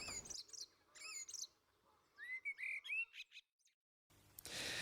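A blackbird sings in spring, clear fluting phrases and warbled notes in short bursts separated by pauses, close and distinct, before a sudden hiss of other sound at the end.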